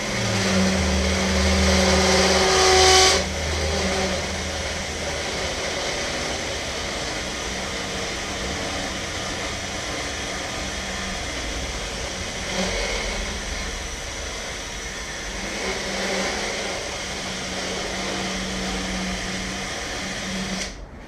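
Die grinder about 25 years old cutting away material on an XR100 project part, a steady high-pitched whine running throughout at close range, louder and harsher in the first few seconds, with no talk.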